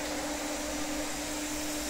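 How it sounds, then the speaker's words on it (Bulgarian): A waste oil burning heater runs with its air blower fan on, giving a steady, loud whirring drone with a constant low hum that stays unchanged throughout. "вентилатор за нагнетяване на въздуха"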